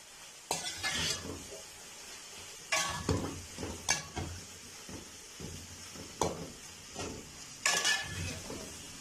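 Cabbage and other vegetables cooking in a pan over a medium flame for pasta, a soft continuous sizzle broken by several sharp bursts of stirring and scraping against the pan at irregular intervals, close by, with no talk.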